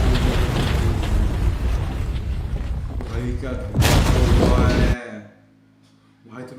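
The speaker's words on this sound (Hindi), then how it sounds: "क्या धमाका है।" A huge explosion during a dangerous stunt challenge, a deep booming roar that rolls on for several seconds with a sharp burst near the end before cutting off into near silence. Voices are heard around it.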